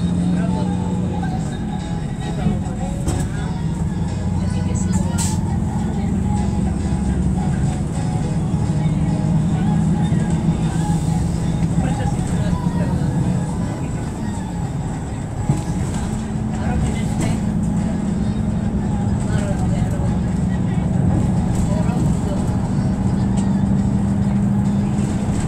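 A PKS bus drives between hills in Slovakia, its engine giving a loud, continuous rumble with slight shifts in pitch while muffled voices sit underneath.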